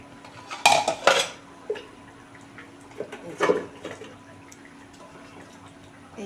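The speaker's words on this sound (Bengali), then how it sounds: "এবারে মাছগুলো দিয়ে দেবো" Pieces of pangas catfish drop into a pot of jackfruit kalia curry, giving a few close clunks and plops against the metal, with quieter stirring and dripping sounds between them.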